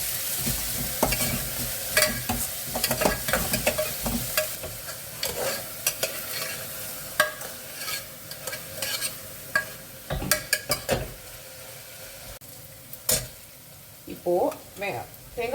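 Onions frying with ginger garlic paste in a pan while being stirred, a steady sizzle under repeated scraping and clinking stirring strokes, close and moderately loud, with no talk.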